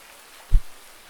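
Steady rain on a farm in the Farming Simulator 19 game, a soft continuous hiss broken by a single low thud, close and even.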